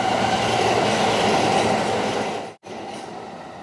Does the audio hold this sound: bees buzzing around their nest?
no